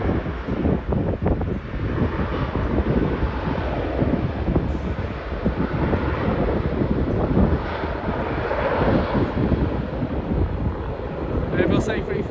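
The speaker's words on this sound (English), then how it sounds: "sound of a Singapore aircraft." Singapore Airlines Airbus A350 jet passing at Manchester Airport, a loud continuous engine roar that holds steady throughout, mixed with wind buffeting on the microphone and a voice speaking over it.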